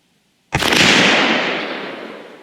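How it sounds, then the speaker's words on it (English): A single sharp, loud rifle shot from a Remington 700 in 7mm Rem Mag firing a Barnes 139gr LRX load over a chronograph, an abrupt crack that rings out and decays over about two seconds. "And we are shooting over the chronograph."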